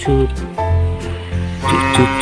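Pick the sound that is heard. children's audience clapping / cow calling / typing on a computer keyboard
cow calling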